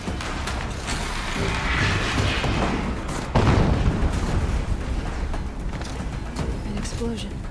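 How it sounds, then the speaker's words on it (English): Explosion in Horizon Zero Dawn Remastered on PS5, played as a story speedrun: dense, steady game noise breaks into a sudden loud, deep boom about halfway through, followed by a heavy rumbling wash that gradually eases. "An explosion."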